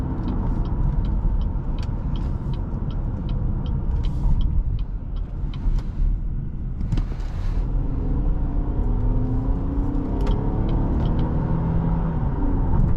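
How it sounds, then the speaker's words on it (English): 2014 Cadillac SRX SUV engine with 308 horsepower, heard from inside the cabin while driving, a steady low rumble under road noise with a gradual rising drone later on, no talking. "Engine sounds pretty good."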